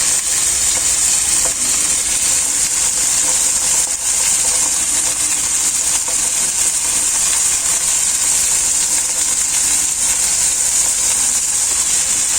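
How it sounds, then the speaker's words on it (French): Pasta with tellines and tomato sizzles and is stirred in a hot pan, a constant loud frying hiss running evenly throughout with occasional faint scrapes of the utensil and no voices. "je vais mélanger. Je mélange."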